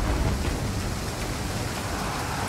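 Steady rain pours across a battlefield in the strategy game Total War: Pharaoh, a dense, continuous hiss with low rumbling underneath, loud and unbroken throughout with no voices.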